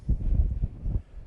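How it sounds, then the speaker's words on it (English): Strong gusting wind buffets the microphone on a hilltop at Beacon Batch in the Mendip Hills, Somerset, giving a deep, uneven rumble that surges and eases with no voices. "Yeah, it's still pretty windy up here."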